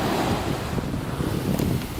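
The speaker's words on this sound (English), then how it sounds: "You're trying to get a picture of the wave without getting splashed on." Large ocean wave crashing on a shore in Sydney, a loud continuous rush of surf and spray with wind buffeting the microphone, no voices.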